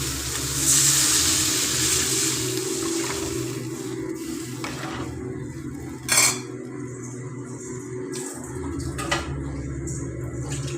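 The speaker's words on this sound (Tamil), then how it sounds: "குழம்பு ஊற்றி வச்சிட்டோம்" Curry sloshes and splashes into a pan amid clinking metal and a soft sizzle, with a sharp clank partway through.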